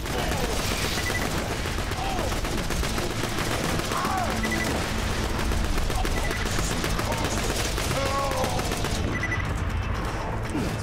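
Rapid, dense pistol gunfire in the first-person shooter Borderlands 2, steady shots crackling nonstop throughout amid chaotic game effects, with a voice talking faintly underneath.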